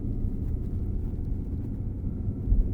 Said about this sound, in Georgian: აი ძრავის სასიამოვნო ხმა ნამდვილად არის.